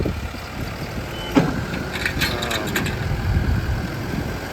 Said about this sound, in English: We got a real nice county-owned case 590 Super N Backhoe.